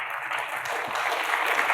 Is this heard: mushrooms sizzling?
no